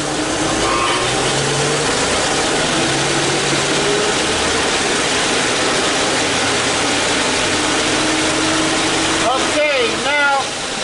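A 2005 Chevy Tahoe engine with a one-shift transmission or electrical fault runs loud and close, a steady mechanical drone with a whining pitch sweep near the end, while voices talk over it.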